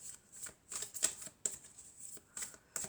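Oracle cards from a triad deck shuffled and drawn, a run of crisp papery riffles and flicks in short bursts, close and soft, with no voice over them.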